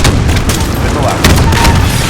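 Missile launch and blasts in the Modern Warfare video game, a dense loud barrage of booms and gunfire-like bursts rolling continuously, with radio-style voices talking underneath.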